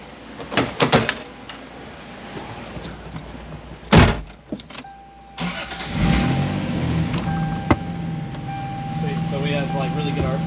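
Lexus SC300 with a 2JZ engine starting on a dyno: door and key sounds, then a sharp crank and catch as the engine settles into a steady idle, with people talking nearby.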